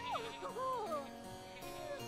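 A goat bleats in The Sims 4 farm-life game with a wavering, nasal call that rises and falls for about a second, near and clear over soft game ambience.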